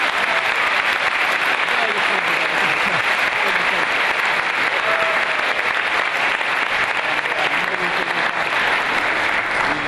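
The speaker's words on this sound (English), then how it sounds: "Let's again give them a round of applause." Dense, sustained applause from an audience at a Michigan Supreme Court session held in Muskegon, steady and loud throughout, with faint voices mixed into the clapping.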